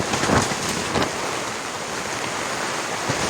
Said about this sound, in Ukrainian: У нас трошки вітерець.